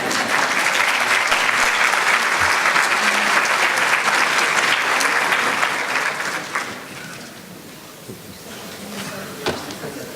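Applause fills the opening session of a national trainers' meeting, dense and sustained clapping from the audience for several seconds before thinning out and fading into room noise.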